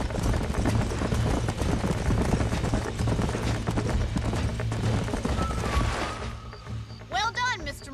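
Horse galloping in the video game Red Dead Redemption, with rapid rhythmic hoofbeats over game music and ambience that fade toward the end, where a short burst of speech-like tones appears.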